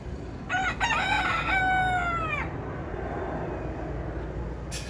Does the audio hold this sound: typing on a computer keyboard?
no